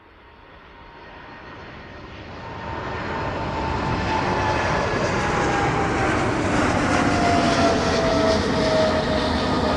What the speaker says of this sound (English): Can you hear those engines throttling up in the distance?